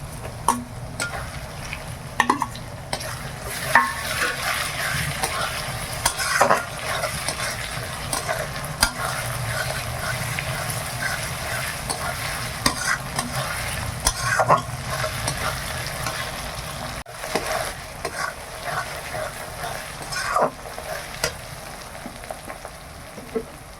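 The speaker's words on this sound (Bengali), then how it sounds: "আদা রসুনটা ভালো করে ভাজা হয়ে গেছে" Ginger and garlic paste fries with a steady crackling sizzle in a pan over fried onions in a village kitchen, while a spoon scrapes and stirs at frequent intervals.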